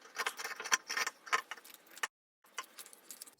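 The first cut goes through the back and front panels of a children's quilt, heard as close, crisp crunchy snips in a rapid series, then a brief pause and a few more cuts.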